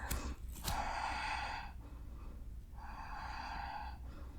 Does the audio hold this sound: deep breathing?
yes